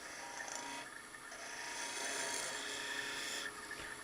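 Wood being tapered toward the handle of a letter opener on a lathe, a steady close scraping rasp that swells and eases over a few seconds with the motor hum beneath, no talking.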